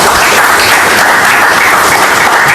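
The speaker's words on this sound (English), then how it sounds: "You can clap for it." Loud, dense applause from an audience at a live launch event, a thick wash of many hands clapping at a constant level for the whole stretch.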